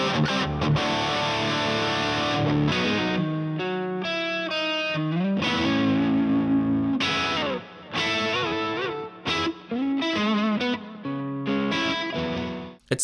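Electric guitar played through a 100 watt EL34 amp head on its overdrive voice, a continuous, loud and distorted stream of chords and melodic lines with a few short pauses, heard alone without talk.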